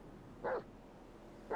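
A dog barks once in a roleplay video game setting, a short, clear bark standing out over a steady low background hum, followed by the start of another at the very end.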